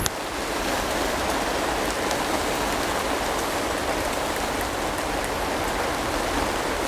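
Water pours steadily from a can onto compost-filled seed trays, a constant, close, rain-like patter and hiss that continues unbroken throughout.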